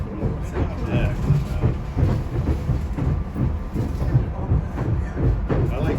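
A SEPTA regional rail train runs on the line toward Chestnut Hill West, heard from on board as a steady rumble with faint rhythmic wheel clatter throughout.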